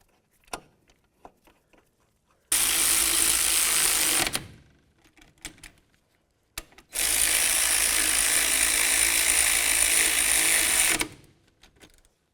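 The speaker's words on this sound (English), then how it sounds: "Start in each of the caliper bracket bolts, snug them up, and then torque each of them to 65 foot-pounds." Tightening of brake caliper bracket bolts on a 2004-2006 Scion xB, heard as two long, loud, steady whirring bursts of a power tool with a few faint clicks between them.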